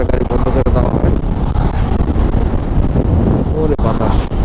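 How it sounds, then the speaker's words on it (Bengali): Strong gusting wind at a river ferry ghat buffets the microphone with a constant loud roar, and voices talk faintly underneath throughout. "ওরে বাতাস!"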